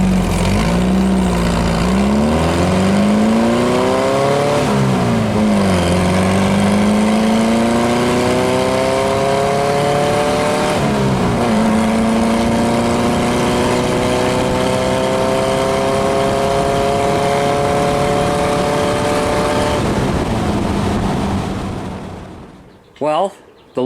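A Volkswagen engine idles and revs through its exhaust, the pitch rising and falling a few times before settling into a steady rumbling drone that cuts off near the end.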